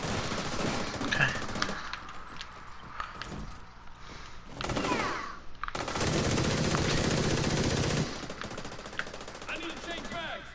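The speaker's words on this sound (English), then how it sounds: "Can you please start shooting?" Gunfire in the online shooter game The Division 2, with bursts of automatic weapon fire and single shots, including a long sustained volley, mixed with game effects and players talking over it.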